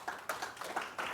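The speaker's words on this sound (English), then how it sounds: "So a round of applause for them as well." Applause from an audience at an Irish-American community gathering, a brief burst of scattered hand claps with several sharp peaks, fairly close and not under talk.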